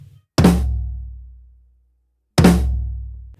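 Two big, heavy drum hits split between floor tom and snare as flams, each landing as a deep booming strike that rings out and decays slowly, loud and close, separated by about two seconds of silence.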